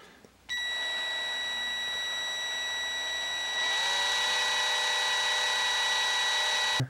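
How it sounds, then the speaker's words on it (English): Power drill running steadily at close range while drilling into a Hot Wheels die-cast toy car, a continuous whining motor hum that steps up to a louder, higher pitch partway through, with no talking. "I'm just going to drill a little bit here."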